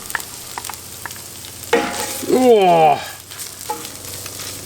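Caramelized onions hit a hot pan of crisping nacho toppings with a loud, broadband sizzle that swells midway and then fades, while a voice briefly exclaims over it.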